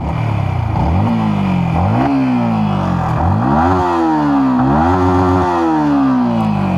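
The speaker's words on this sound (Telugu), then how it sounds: "ఎగ్జాస్ట్ సౌండ్ విన్నారు కదా, ఇంజిన్ అయితే చాలా స్మూత్గా ఉంది." A 2026 Yamaha XSR 155 motorcycle engine and exhaust rev up repeatedly through the gears, loud and close, each rising drone dropping as the next gear engages, with no talk.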